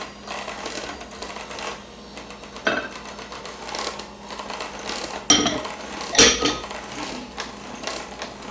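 Baking soda and baking powder stirred together in a bowl, a continuous scraping, rattling stir of a utensil against the bowl with a couple of sharper knocks, close and moderately loud.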